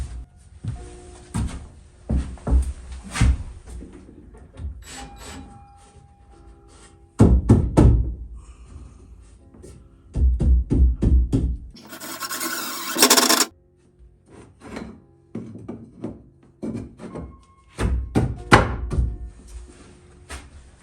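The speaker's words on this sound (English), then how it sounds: "there's a little bit of warpage to this 2x4, so I'm going to go ahead and toenail it into that first" Hammer blows toenail a slightly warped 2x4 into a wooden workbench frame, with bursts of sharp, close knocks separated by pauses and a brief hiss of noise partway through.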